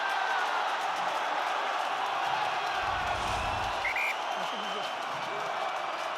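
Roaring home crowd of about 18,000 at Ravenhill cheering an Ulster rugby comeback in a Heineken Cup quarter-final against Saracens, a dense continuous wall of noise with whistles and shouts, steady and loud throughout.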